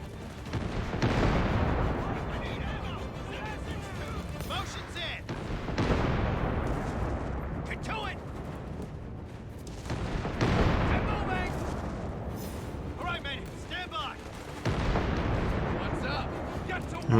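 Grenade blasts and artillery fire from Company of Heroes 3 battles rumble in dense, repeated waves of heavy booms and crackling gunfire, mixed under someone talking throughout.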